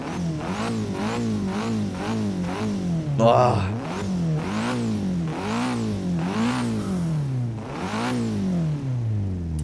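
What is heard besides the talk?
car engine revving in Forza Horizon 3 video game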